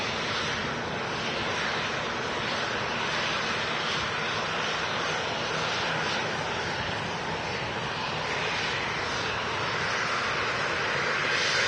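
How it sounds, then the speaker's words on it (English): An Airbus A380 departs Manchester Airport, its jet engines producing a loud, unbroken roar that stays powerful and constant throughout. "Mega shot of that 380 departing."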